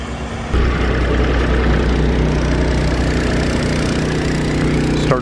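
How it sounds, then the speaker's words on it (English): A heavy excavator's diesel engine runs steadily at a construction site where a wetland bog filter is being dug, a loud, constant low rumble holding from start to finish with no talk. "we got the other supervisor riding in the excavator"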